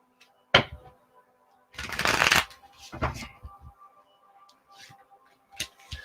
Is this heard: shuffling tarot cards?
yes